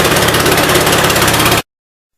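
A 1988 Gravely 12G walk-behind tractor engine runs steadily at a fast idle, loud and close, a buzzing mechanical drone with a fuel issue, cutting off abruptly after about a second and a half.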